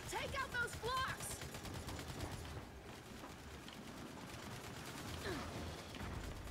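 Turret and rifle gunfire in Gears 5, rapid rattling bursts running throughout beneath shouted voices and game chatter.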